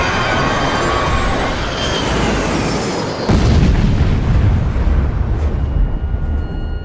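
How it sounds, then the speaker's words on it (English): A continuous heavy rumble of roaring noise that surges louder partway through, like a distant explosion's blast on a mountainside rolling on without a break. "we've just seen an explosion on the side of a mountain"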